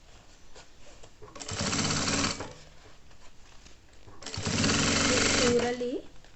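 Sewing machine stitching a fabric coin purse, two close, steady runs of rapid whirring stitches, each about a second long with quiet gaps between, and someone talking nearby.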